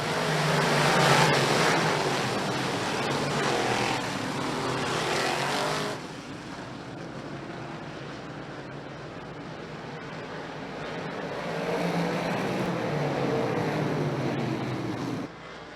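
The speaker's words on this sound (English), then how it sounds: "Green lights are on, the big blocks are underway" Pepsi Big Block Modified race cars with about 800 horsepower roar off at the green flag, loud and continuous at first, then dropping back and building again as the pack passes.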